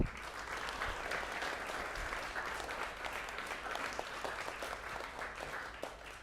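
Audience applause for the speakers of a panel on event sustainability at Sydney Climate Action Week, steady and dense for about six seconds, with a few sharper claps standing out near the end.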